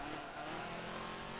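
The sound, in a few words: Porsche race car engine in Forza 7 video game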